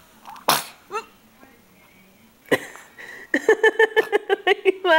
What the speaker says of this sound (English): you sneezed on me